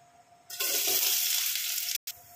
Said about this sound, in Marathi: तेल जरा जास्तच उकळलंय म्हणून आपण पहिला कांदा टाकू.